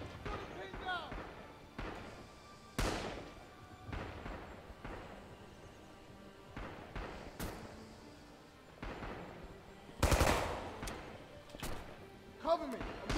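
Gunfire in the video game Heroes of the West, a series of sharp shots and thumps at irregular intervals, with the heaviest bursts near the middle and end, heard beneath people talking.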